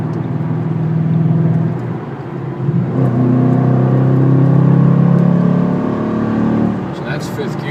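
Engine of a 2012 Ford Mustang GT 5.0 with a 3.73 rear end and Ford Stage 1 track package, pulling hard in fifth gear on the highway, its steady drone rising in pitch and loudness midway before easing off.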